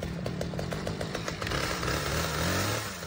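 A vintage two-person logging chainsaw engine runs loud and close, a steady buzzing drone with rapid sputtering pulses early on that smooth into a continuous roar.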